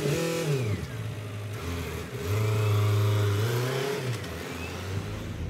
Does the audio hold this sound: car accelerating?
yes